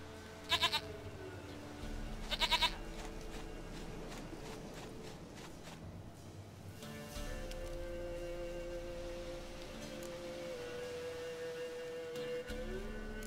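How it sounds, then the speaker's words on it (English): A goat bleats in the Witcher 3 video game, two short quavering cries early on over a steady ambient game background with faint shuffling steps. "Goat of mine, dearest, sweetest goat."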